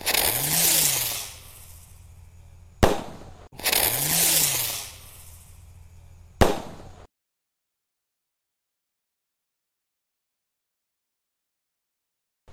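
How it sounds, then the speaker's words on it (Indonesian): A Super Cruiser Roman Candle firework fires at night, with two long hissing, whooshing bursts, each ending in a sharp crack, loud and close, followed by silence. "Kita nyalakan, sudah menyala bosku. Super Cruiser Roman Candle, let's go."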